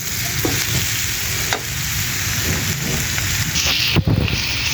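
Bitter gourd and shrimp fry loudly in a pan, a dense close sizzle broken by scraping and clattering as the mixture is stirred, with no voices.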